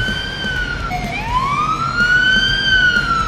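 In the video game Police Simulator, an ambulance siren wails nearby, its pitch dropping and then sweeping back up in a long, smooth rise, with faint road noise underneath.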